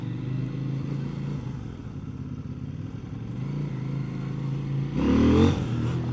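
A CFMoto 800NK motorcycle engine gives a steady, close, throbbing hum that swells into a louder rev near the end, with no speech.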